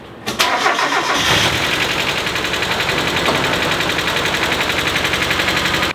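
A Mazda Miata engine cranks briefly and catches, settling into a loud, steady, slightly lumpy idle with rhythmic pulsing, close by and without talk, after years of sitting.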